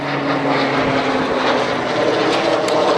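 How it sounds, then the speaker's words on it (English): A fixed-wing plane passes overhead on approach to land nearby, a steady loud engine drone filling the scene for the whole stretch outside a Harley-Davidson dealership in San Marcos. "Pause for the plane to go by."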